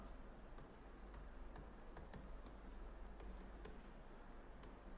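Chalk or marker writing on a board during a lecture on managerial personnel: faint, steady scratching with short sharp taps scattered throughout, continuous and low in level.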